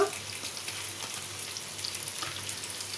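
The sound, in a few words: potatoes and drumstick stems frying in pan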